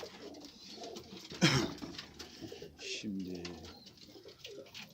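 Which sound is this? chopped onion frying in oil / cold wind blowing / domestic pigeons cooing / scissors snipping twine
domestic pigeons cooing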